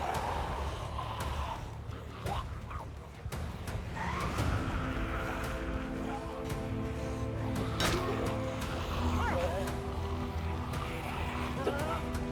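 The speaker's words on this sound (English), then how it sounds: "I jumped back into my pickup truck and drove them over" A pickup truck driven through a herd of zombies in Project Zomboid, with the engine humming steadily and rising in pitch, scattered thuds and squeals over it, and a voice talking over parts of it.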